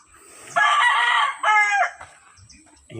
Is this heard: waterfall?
no